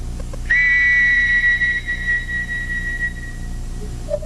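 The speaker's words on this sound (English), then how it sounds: "let me blow my whistle and you just listen" A steady, shrill whistle blast sounds after a brief pause and holds for about three seconds before cutting off, with a faint chirp at the end.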